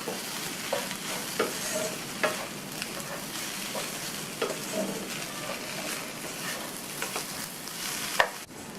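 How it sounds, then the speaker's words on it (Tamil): Plantain pieces are stirred in a pan with roasted ground spice powder and salt, making a continuous sizzle broken by repeated scraping clicks of the spatula against the pan. "சேர்த்துட்டு நல்லா எல்லாம் ஒன்றா மிக்ஸ் ஆகிற மாதிரி கலந்து விட்டுறணும்."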